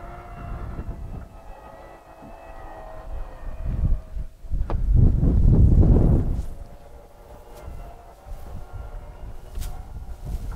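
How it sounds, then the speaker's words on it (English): Wind blowing outdoors around a 2018 Airstream Interstate, buffeting the microphone in low rumbling gusts that swell to a loud peak midway, then ease back to a fainter rush. "Pretty windy out today."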